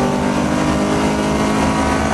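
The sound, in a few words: saloon race car engine accelerating on track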